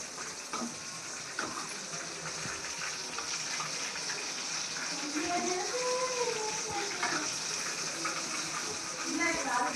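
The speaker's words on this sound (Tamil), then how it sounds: "குழம்புக்கு தேவையான தண்ணி ஊற்றி." Water is poured into a pot of chicken kola urundai kuzhambu, a Tamil meatball curry, giving a steady near splashing gush under faint background noise, with some sizzling texture.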